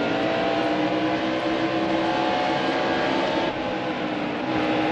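Race car engine in NASCAR Heat Evolution at Dover, steady loud roar holding full throttle down a straight, dense and continuous for the whole stretch with no talk over it.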